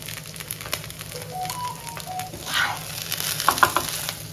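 A rava and poha uttapam fries on a tawa over a low flame, giving a soft continuous sizzle with a few light scraping clicks near the end.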